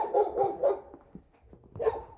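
A dog barking during an evening walk in the snow, three or four sharp barks close together at the start, then a short pause and one more bark, fairly close, with no talk.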